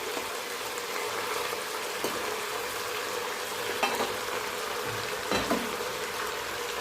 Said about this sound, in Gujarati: હવે આપણે તળેલા મુઠિયા નાખીશું. જે આપણે રીંગણ રાખેલા છે પાણીમાં સુધારીને એ નાખીશું.